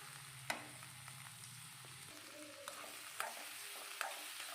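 Boiled, drained plantain being stirred into sautéed onions in a pan: a continuous sizzle of frying with scraping stir strokes and a few sharp clinks of the spoon against the pan.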